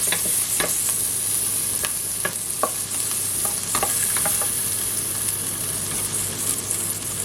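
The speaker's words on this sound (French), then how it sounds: "les oignons, ils commencent à dorer." Onions browning in a pan sizzle steadily up close, with a continuous bright frying hiss and occasional light scrapes and taps of a stirring utensil.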